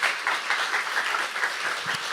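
Congregation clapping at a Korean Saturday worship service, a steady, even wash of many hands applauding together, moderately loud and unbroken.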